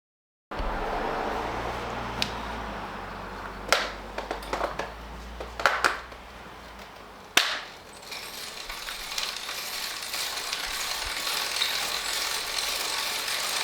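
A bicycle freewheel ratchets with a continuous fine clicking under steady road or wind noise, broken by a few louder mechanical clunks.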